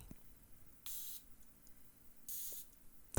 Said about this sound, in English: Now we're going to look at the distribution of the spray.